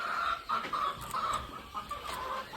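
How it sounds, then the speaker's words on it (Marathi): Sonali breed breeder hens on a poultry farm cluck steadily and overlap, a dense, close flock chorus with no voices, over a continuous background hum. "सोनालीचे ब्रीडर पक्षी आहेत।"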